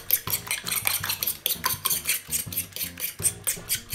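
A spoon stirs panzerotti filling seasoned with salt and pepper in a bowl, giving a quick rhythmic run of close metallic scrapes and clinks that carry on throughout without any talking.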